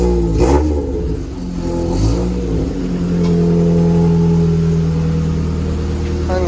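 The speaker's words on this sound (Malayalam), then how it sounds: "വണ്ടി അടിച്ചു നോക്കാം. അടിക്കട്ടാ." A car engine is cranked on a rainy day, catches after a few uneven turns and then runs with a loud, sustained rev close by.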